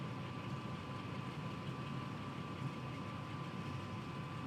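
A Class 47 diesel locomotive idles in a train simulator game on the West Coast Main Line, a faint, steady low engine drone with a constant hum and no speech.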